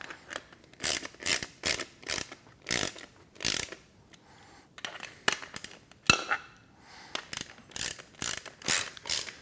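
A ratchet wrench is in use during assembly of a Body Solid EXM3000 home gym, giving close, crisp clicking bursts in repeated strokes with short pauses between them.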